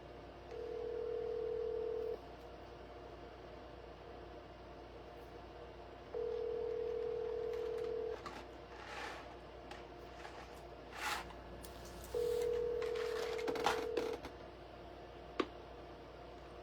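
Telephone tones while calling a number: three steady beeps, each about two seconds long and evenly spaced, with faint clicks and small noises between them in a quiet room.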